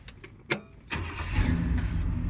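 A 1967 Chevelle Malibu's 283 V8 cranks briefly with a few clicks, then fires up and settles into a steady, rumbling idle through Flowmaster exhausts, fairly quiet and close with no talking.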